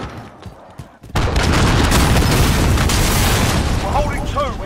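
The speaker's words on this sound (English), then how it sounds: "Allied cruise missile away." In a video game battle, a cruise missile launches and detonates. After a quiet moment a dense, sustained roar of explosions and rumbling blasts takes over, loud and continuous, with voices talking briefly.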